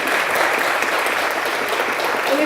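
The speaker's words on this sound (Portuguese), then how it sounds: "uma salva de palmas para Cris" A crowd applauds steadily and loudly at a lively comedy show for a guest named Cris, the dense clapping sustained throughout without a break.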